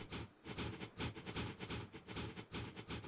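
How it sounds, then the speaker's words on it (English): A small train runs in a city-building video game, heard as a steady chuffing, hissing rhythm with regular clickety pulses, fairly quiet and even, with no talk. "There's our little train."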